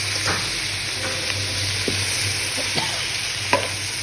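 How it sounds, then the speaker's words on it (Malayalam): Onion frying in hot oil with garlic, green chilli and ginger, giving a loud, continuous sizzle close by, broken by a few light scrapes of a stirring utensil. "ചൂടായ വെളുത്തുള്ളി, പച്ചമുളക്, ഇഞ്ചിയിലേക്ക് സവാള ചേർക്കുന്നുണ്ട്."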